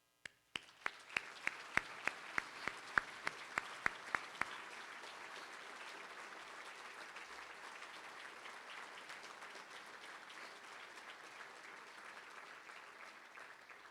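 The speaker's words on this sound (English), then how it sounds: "You deserve a tremendous round of applause." A gala audience breaks into applause: a few sharp, distinct claps ring out first, then a steady, fairly faint wash of many hands clapping continues for over ten seconds.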